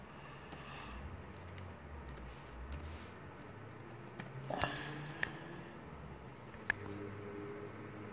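Soft clicking of keys on a computer keyboard amid a low, steady background hum. A few sharper clicks stand out near the end.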